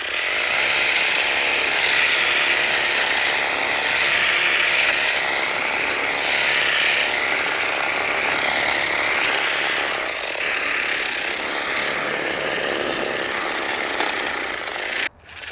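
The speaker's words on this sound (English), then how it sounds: "let's see how well the hedge trimmer works." An Echo DPAS 2100SB 56V cordless hedge trimmer attachment running continuously, a loud, steady high-pitched electric whir with slight wavering in tone, close up, cutting off abruptly at the end with no talk.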